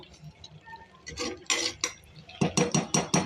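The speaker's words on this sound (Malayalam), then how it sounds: "അടി പിടിക്കാതിരിക്കാൻ വേണ്ടി ഇടയ്ക്കിടയ്ക്കൊന്ന് ഇളക്കി കൊടുക്കണം." A spoon stirs soya chunks curry in a metal pot, clinking and scraping against the sides in a quick run of close, bright strokes, the last several coming as a steady rhythmic series.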